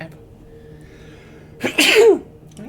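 A single sharp sneeze bursts out close to the microphone during a cooperative game stream of Space Marine 2, preceded by a quick intake of breath over a quiet background with faint voice traces.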